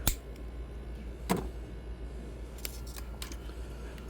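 Scissors snipping a piece off, with a sharp cut at the start, another about a second later and a few fainter clicks, close by over a steady low hum.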